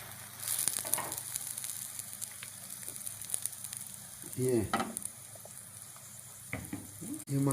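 Parathas frying in oil on a pan, a steady close sizzle running throughout with occasional louder crackling bursts and scraping, and someone talking over it.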